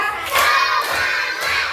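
Close, loud hand claps from a classroom of children doing a counting clap game, two or three bursts in quick succession.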